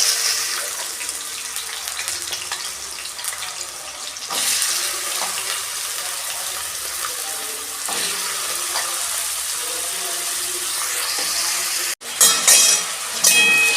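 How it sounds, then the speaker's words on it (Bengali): Small cut potato pieces fry in oil in a wok, giving a steady broadband sizzle that runs close and fairly loud throughout, with a brief dip and a sharper burst of crackling near the end. "এই যে আলুটা আমি ভেজে নেব।"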